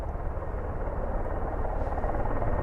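A helicopter runs its engine with the rotors turning at an airfield, heard as a steady, broad roar that holds constant throughout, loud and without any talk.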